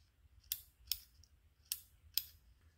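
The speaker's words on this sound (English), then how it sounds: "this piece is the cam that presses the stop switch" Cam inside a Club Car golf cart MCOR speed controller pressing the stop switch, giving four sharp, quiet, close-up plastic clicks spaced irregularly over a faint background.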